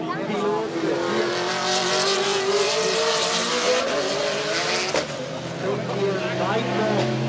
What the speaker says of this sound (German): 500 für Jürgen Eberhard im Porsche.